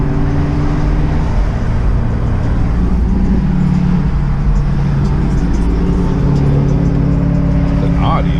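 An Audi car engine drives by with a steady, loud rumble and whir under road noise, while people talk over it.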